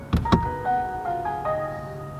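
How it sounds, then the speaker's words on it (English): A 2020 Hyundai Ioniq Blue hybrid powering down, with a couple of clicks followed by a short descending series of soft electronic tones heard close in the cabin. "And now the shutdown sound."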